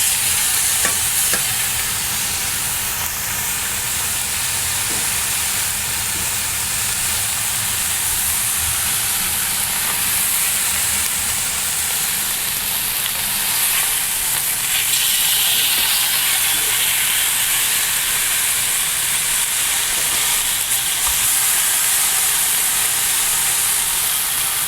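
Chuck eye steak sears in a hot pan, a steady loud sizzle with bright hiss running the whole time and some faint stirring and pan noise underneath, with no voices.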